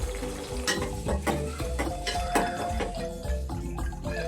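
Cumin, dried chillies, curry leaves and crushed garlic sizzle in hot oil as a tempering, a continuous crackling hiss with small pops, heard under background music.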